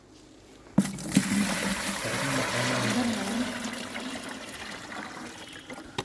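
Water is poured into a container to mix wall putty powder, a sudden splash followed by a steady gushing pour lasting several seconds, close and moderately loud, with no speech.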